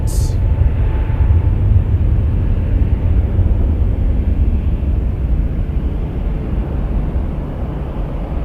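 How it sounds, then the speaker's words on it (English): MD-11 airliner taxiing at Toronto Pearson airport, a steady low rumbling engine drone that holds evenly throughout, fairly loud and unbroken, with a brief high-pitched blip at the very start. "MD-11 coming down Juliet."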